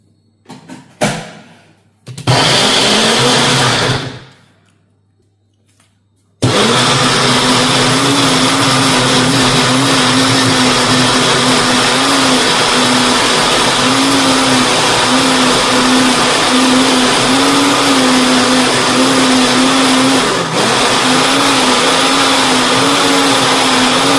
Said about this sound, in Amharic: በደንብ አድርጌ ፈጫዋለሁ ማለት ነው።